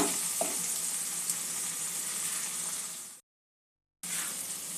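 A spice mixture fries in a pan with a loud, continuous close-up sizzle that cuts off briefly into silence, then resumes.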